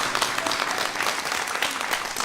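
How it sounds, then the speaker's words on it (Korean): Studio audience applause on a Korean family-reunion broadcast, a dense, steady wash of clapping sustained at even loudness throughout with no voices on top. "박수 오늘 보내드리겠습니다"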